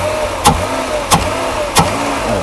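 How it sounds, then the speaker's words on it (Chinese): A 1993 Mercedes-Benz G463 300GE engine after distributor repair, idling steadily and given three quick sharp throttle blips at even intervals, loud and close. "大哥来拉动油门"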